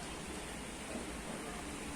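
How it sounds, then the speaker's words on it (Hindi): Very heavy rain pours down onto a balcony in a steady, dense hiss, constant and fairly faint, with no voices over it. "बहुत तेज़ बारिश हो रही"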